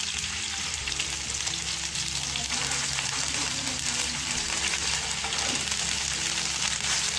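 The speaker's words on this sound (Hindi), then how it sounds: "अदरक लहसुन का पेस्ट शामिल करके इसको हल्का सा भून लें।" A steady, dense sizzle of ginger garlic paste frying in hot oil in a pan, loud and close throughout with no speech.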